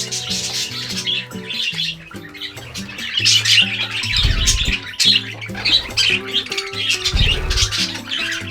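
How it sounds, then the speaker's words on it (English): Several budgies squabble at close range, with a constant jumble of harsh squawks, chatter and chirps overlapping in quick bursts. "Sometimes you'll see budgies arguing."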